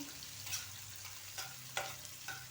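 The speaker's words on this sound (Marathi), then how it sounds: "तेलामध्ये कांदा छान भाजून घेऊया यामध्येच कढीपत्ताही घालायचा आहे" Chopped onion and curry leaves fry in oil for a green pea chutney, a soft steady sizzle with a few brief stirring scrapes, close and fairly quiet with no talking.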